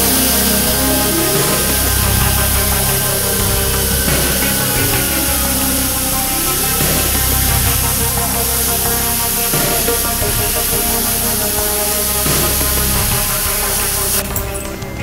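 A Yeswelder CUT55-DS plasma cutter slices a long straight cut through metal plate, a loud, steady hissing roar with crackling texture that runs continuously throughout, no talking over it.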